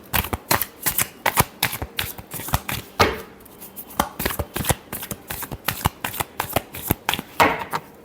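Tarot cards are shuffled by hand in a rapid run of crisp riffling slaps and flutters, close and fairly loud, with brief pauses between bursts.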